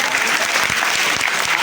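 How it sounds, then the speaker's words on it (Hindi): Loud, dense clapping from an audience at a student induction session for a Bihar batch, continuous and close, filling the room without pause. "वही ताली बजा दे।"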